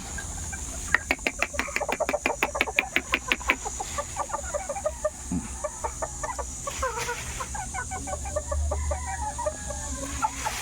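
Bantam chickens in a coop cluck and call, with a quick run of rhythmic, evenly spaced clucks at first, then looser, varied calls over steady background hum.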